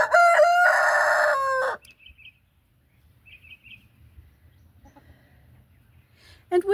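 A farmyard rooster crows loudly and close in one long call, then quieter chicken clucks and small calls follow sparsely over low background noise, with another brief cluck near the end.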